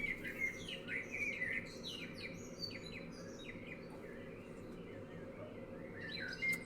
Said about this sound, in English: Can you not hear the bird sounds?